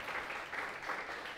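A church congregation claps together in a dense, even round of applause, moderately distant and sustained throughout.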